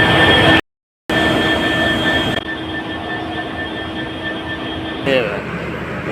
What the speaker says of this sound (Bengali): ট্রেনের কি সাউন্ড দেখো